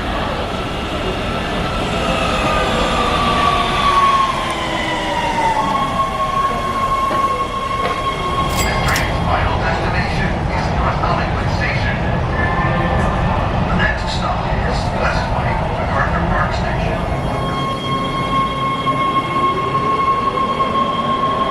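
A Los Angeles Metro subway train at 7th Street Metro Center rumbles loudly with rising and falling electric whines, sustained tonal hums and wheel squeal over a steady roar, with people talking faintly in the background.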